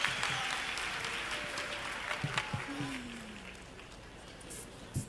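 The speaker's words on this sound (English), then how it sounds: "Let's give him another round of applause." Audience applause at a youth empowerment event, a moderate wash of clapping that gradually fades, with a few scattered louder claps and a brief voice partway through.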